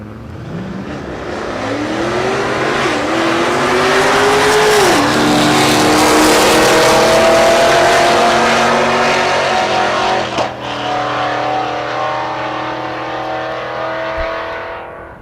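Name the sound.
Pontiac G8 car making a drag race run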